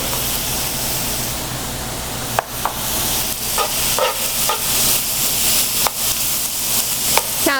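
Food browns in a hot pan in a home kitchen, giving a loud, dense, crackling sizzle with sharp pops and occasional stirring scrapes, close and steady with no talking.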